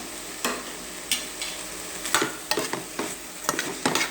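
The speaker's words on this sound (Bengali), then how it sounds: "আমি এখন আরেকটু নেড়ে ছেড়ে দিলাম।" Mixed vegetables seasoned with salt, chili and cumin powder sizzle in a pan while being stirred, with a soft steady frying hiss broken by several distinct scraping knocks of the spatula, close up and without speech.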